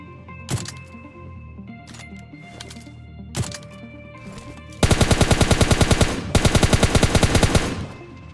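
Gunfire in a battle royale video game: scattered single shots early on, then two loud, rapid automatic bursts in the second half, with no talking.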